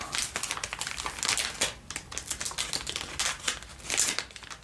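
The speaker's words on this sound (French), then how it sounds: "j'aime bien ce genre d'emballage, c'est facile à ouvrir." Crinkly plastic shopping packaging being torn open and handled, a steady run of close, bright crackling and rustling with brief louder crumples, no voices.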